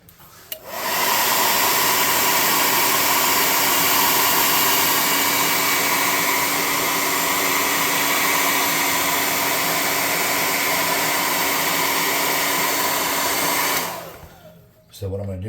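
A hair dryer blows on freshly painted miniature figure paintwork, switching on abruptly and roaring at a steady, loud, even pitch for about thirteen seconds before cutting off.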